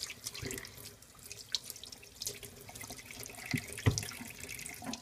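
Water runs from a tap in a sink after straight razor honing, a soft, steady flow with splashes and drips, fairly close and with no talking.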